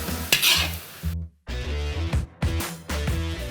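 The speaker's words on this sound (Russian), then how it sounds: "А дальше необходимо периодически подливать воду и постоянно перемешивать." Beef tongue cooking Moroccan-style in a pot is stirred with a utensil, making repeated scraping and clinking strokes over a bubbling sizzle, loud and close, with a brief pause in the middle and no talk.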